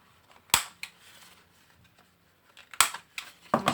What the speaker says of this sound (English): I'm just going to take my corner rounder to round the lid